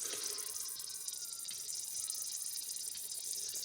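Tap water pours continuously into a tank, a steady, even splashing gush running close by with no speech over it.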